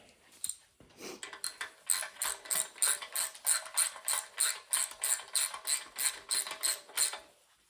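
A ratchet clicks in quick, steady bursts while tightening aluminum intake bolts on a 440 V8 Mopar engine being rebuilt, with a faint, close-up metallic rhythm and no talking.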